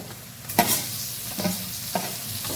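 Crushed garlic masala and turmeric pieces sizzle in a pan for a prawn curry. A spoon scrapes and stirs in several separate strokes over a continuous, moderate frying hiss.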